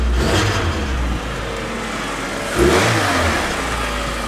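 A Cavalier car engine with new spark plugs runs steadily at idle, close and loud, with one brief rev rising and falling partway through.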